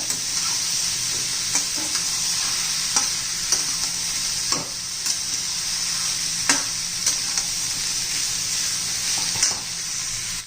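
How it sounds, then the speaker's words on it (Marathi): Onions roasting in a pan until reddened for a spicy ghee chicken dish, a bright, steady sizzle close by, punctuated by repeated sharp scrapes and knocks of the stirring spoon, without speech. "छान असा लाल होईपर्यंत आपण कांदा भाजून घेणार आहोत"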